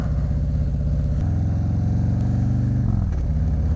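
A motorcycle rides along at steady speed, its loud engine chugging close and continuous, with a brief gear change and rising rev partway through and no talk.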